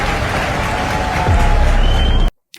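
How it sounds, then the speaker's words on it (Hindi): Audience applause from a played speech recording, a loud, dense wash of clapping from a large crowd that swells slightly before cutting off abruptly into silence. "कितनी तालियां पीटते हैं लोग"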